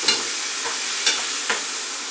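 Chicken curry simmering and sizzling in a pan gives a steady broadband hiss with a few soft clinks or stirs, close and fairly quiet, with no talking.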